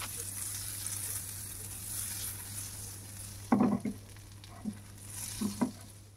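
Butter melts in a frying pan over a very low flame while making bread pizza, giving a soft, steady sizzle with a few brief clatters of a utensil near the end.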